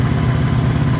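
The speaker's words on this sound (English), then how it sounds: "She's idling a little high right now, I think, so I'll have to get that squared away." An old motorcycle engine idles a little high, a loud, steady close-up putter with even firing pulses and no voices.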